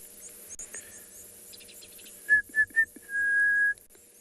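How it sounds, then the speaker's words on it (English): Orange-breasted bushshrike calling on an afternoon safari: three short clear whistled notes followed by one longer sustained whistle, moderately near over quiet bush ambience. "You can maybe hear the orange-breasted bushshrike in the background."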